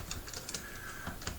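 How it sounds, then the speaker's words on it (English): Quick, uneven clicks of typing on a computer keyboard, close and fairly quiet, with small bursts of keystrokes spread across a short stretch and no talking. "if you'll just remember to type in your name"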